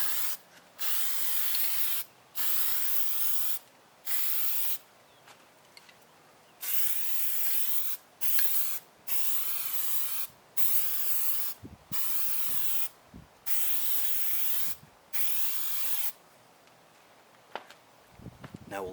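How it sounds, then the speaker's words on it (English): Plasti Dip aerosol sprayed onto the bumper crash bar of an Audi Q5. About a dozen short, loud hissing bursts come in a steady stop-start rhythm, with faint handling noises between them. "I'm going to go ahead and plasti dip the crash bar, or the actual bumper"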